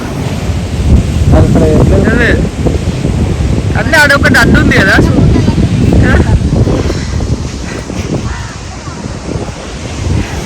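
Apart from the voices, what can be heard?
ocean waves at beach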